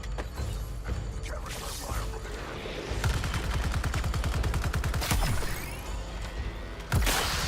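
Rapid automatic gunfire rattles in long bursts in the game Suicide Squad, interspersed with single shots, mechanical clanks and whooshes, loud and close throughout.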